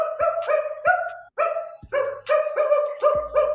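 A person imitates a dog barking, giving about eight short, loud, voiced barks in a steady rhythm with brief pauses between, close to the listener and with no other sound around them.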